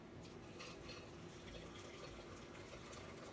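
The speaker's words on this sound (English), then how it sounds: "I'm just gonna pour it through this strainer" Hot boiled chaga and banana peel tea, with cinnamon, pours steadily through a strainer, a continuous close splashing trickle of liquid with no talking.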